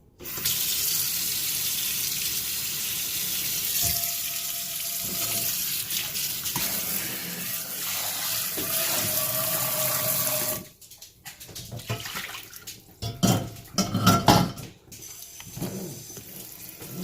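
Hot water runs steadily from a kitchen tap into a sink while a new cast iron pan is washed, a continuous splashing rush that breaks up into uneven gushes and clatters toward the end.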